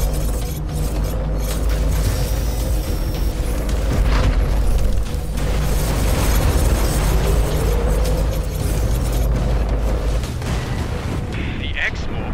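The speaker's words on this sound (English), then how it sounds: "Fire the frostbite cannon." A frostbite cannon fires in the X-Morph video game during an assault on defense towers, a loud continuous mix of heavy booms, mechanical whirring and crackling that fills the whole stretch.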